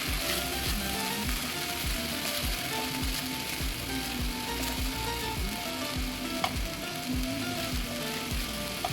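A paste of garlic, ginger and dry chilli fries with a bhetki fish head, making a soft, constant sizzle under a regular rhythm of spatula strokes scraping the pan, with no speech.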